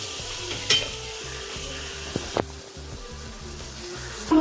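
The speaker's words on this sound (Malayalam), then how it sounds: "നമുക്ക് എന്തായാലും ഇവിടെ കിടന്ന് അത് മൊരിയട്ടെ." Spade fish fillets coated in masala frying in a pan, a steady close sizzle with a few sharp pops and the clink of a utensil around the middle and at the end, no voices.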